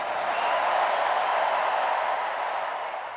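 Big convention-hall crowd at the Democratic National Convention applauding and cheering in a steady, loud roar that holds for several seconds before easing slightly.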